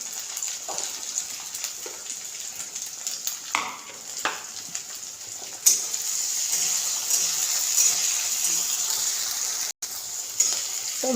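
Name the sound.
chopped tomato added and sautéed with browned onion in pan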